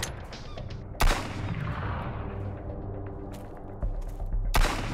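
Desert Eagle pistol fire in an island survival video game: a few sharp, loud shots spaced seconds apart, each with a broadband crack and a decaying tail, set against steady in-game ambience.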